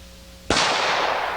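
A single sharp report from a standard 45 Colt factory load, a sudden loud blast with a long ringing wash trailing off, preceded by a brief low hum and no speech.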